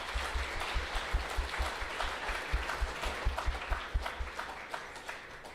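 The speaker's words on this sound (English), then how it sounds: "can we just have a round of applause, please, for Lucas?" A conference audience at a blockchain industry event applauds for a speaker: a dense, continuous wash of many hands clapping, steady and moderately loud, with no voices over it.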